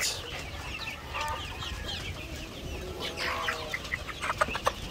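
Barred Rock chickens cluck softly and keep it up over a steady outdoor background, with a few sharper calls near the end.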